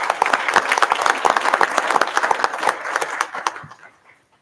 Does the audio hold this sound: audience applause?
yes